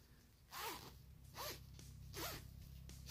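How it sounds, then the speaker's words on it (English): Zipper on a bag, likely a small pouch or case, zipped in three quick separate strokes with brief pauses between, close and clear against a quiet room. "It does have a zipper here"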